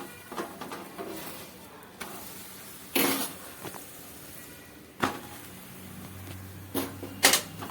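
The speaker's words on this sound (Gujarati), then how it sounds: "આવી રીતે આપણું થેપલું બંને બાજુ શીકી લેવાનું છે અને ઉપર આપણે ઓઇલ નાખી અને શીકવાનું છે બંને સાઈડ" Thepla flatbread frying on a pan with oil added, a soft continuous sizzle broken by intermittent scrapes and clicks from turning and pressing, close and moderate in volume.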